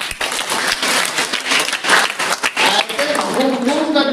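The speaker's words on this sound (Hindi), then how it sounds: "सब जोरदार ताली बजाओ।" Children clapping loudly at a school fire-safety lesson, a dense, steady burst of many small hands lasting several seconds, with voices mixed in.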